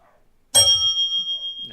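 A locomotive bell in the Run 8 train simulator game sounds one sharp metallic ring that lingers and slowly fades after a quiet start.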